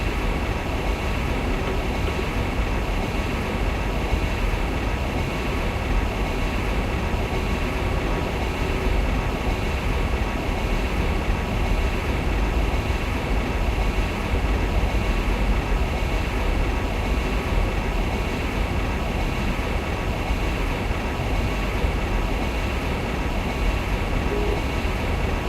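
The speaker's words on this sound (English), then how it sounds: "I'm going to manually brake the train harder than the system would" An ICE 2 high-speed train in Train Simulator 2017 runs on the Berlin to Leipzig line while being braked hard, giving a steady, dense rumble and rolling roar that continues unchanged throughout.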